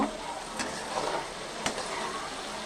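Bean seeds sauté in a pan with a soft, continuous sizzling hiss, marked by a couple of brief clinks of a utensil against the pan, close and at a moderate level.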